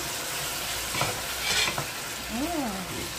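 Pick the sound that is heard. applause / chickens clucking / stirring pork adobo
stirring pork adobo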